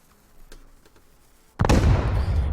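Satchel charge detonating in the Rust video game: quiet faint ticks, then a sudden loud close blast with a rumbling, crackling tail.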